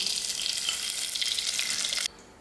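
Ghee heats in a deep, heavy saucepan with a bright, steady sizzling hiss that stops abruptly near the end and leaves only faint background noise.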